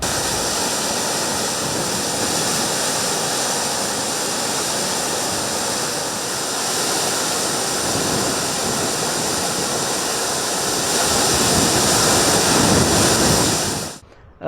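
Foam-laden, polluted river water plunging about ten feet from the Kelavarapalli dam, a loud, continuous close roar of falling water that holds steady before cutting off at the end.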